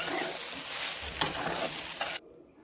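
Sabudana khichdi is stirred in a hot pan, with a soft continuous sizzle and light scraping for about two seconds before it cuts off abruptly into near quiet.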